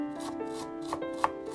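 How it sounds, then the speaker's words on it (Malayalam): Knife finely chopping fresh dill leaves on a board, a quick series of soft taps and scrapes, with a couple of sharper cuts standing out, close and fairly quiet with no talking. "ഇനിയും കുറച്ച് ദിൽ ലീഫ് ചെറുതായിട്ട് അരിഞ്ഞെടുക്കാം."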